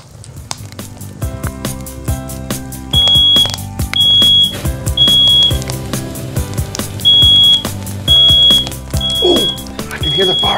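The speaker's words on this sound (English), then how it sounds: "Hear the fire alarm now." In a classroom with a simulated fire, a fire alarm sounds in a steady series of loud, high electronic beeps. The beeps repeat at regular intervals over music while people talk.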